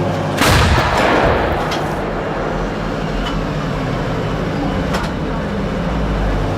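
A heavy blast from a self-propelled artillery gun booms near the start, followed by a long rumbling wash and a few faint distant thuds.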